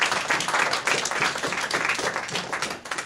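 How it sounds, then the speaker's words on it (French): A church congregation applauding during a service, a dense, continuous burst of many hands clapping close by, lasting the full few seconds with no talk over it. "Acclamons la parole de Dieu"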